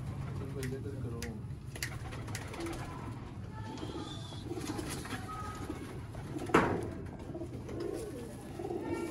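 A female golden pigeon gives soft, repeated coos close by. Someone speaks over them at times, and there is a brief thump partway through.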